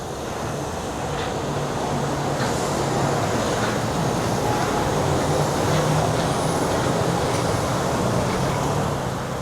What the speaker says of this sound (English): The monorail is going to be just above us right here.